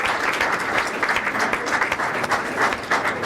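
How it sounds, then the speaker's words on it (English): A town board meeting audience gives a steady round of applause for young athletes as they walk out, sustained dense clapping at full strength throughout with a faint murmur underneath. "Let's have another round of applause for these athletes while they're walking out."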